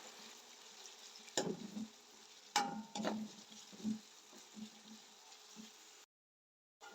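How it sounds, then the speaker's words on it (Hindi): Onions frying in hot ghee: a soft sizzle broken by a few sharp stirring clatters and spoon taps, fading before a brief silence at the end. "प्याज को फ्राई करेंगे प्यारा सा कलर आने तक, गोल्डन सा।"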